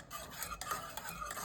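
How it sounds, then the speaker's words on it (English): A spoon stirs green plantain porridge cooked with cinnamon leaves in a pot, Jamaican style, giving a steady close scraping and swishing that runs through the clip with no talk. "make sure you stir it so it doesn't become lumpy"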